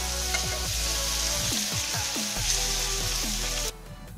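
Paneer cubes fry lightly in butter in a pan, giving a steady close sizzle with a few soft scraping stirs, then cutting off sharply near the end; no one speaks.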